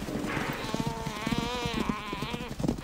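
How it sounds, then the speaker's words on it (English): A topi antelope cries in distress at night during a lion attack, a drawn-out, wavering bleat up close over rustling and scuffling sounds of a struggle. "The chaser can hear the desperate bleat of a topi."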